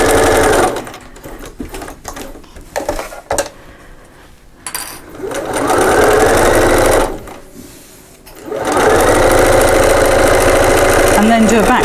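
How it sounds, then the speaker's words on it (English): Sewing machine joining fabric halves, loud and close, with a stop-start burst of stitching followed by two long steady runs separated by a short pause, and someone talking over parts of it. "you're taking the other two halves and you're stitching those together"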